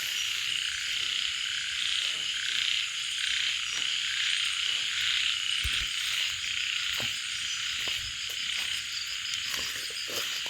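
Frogs croak after rain, a dense, continuous chorus of rapid calls layered with shrill insect trilling and occasional soft thumps nearby, steady for the whole stretch.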